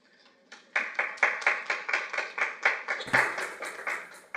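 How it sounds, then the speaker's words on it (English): A small audience at a city council meeting in Oxnard claps in a brief, fairly close burst of a few people, with steady individual hand claps that swell after a quiet start and continue evenly to the end. "No clapping, please."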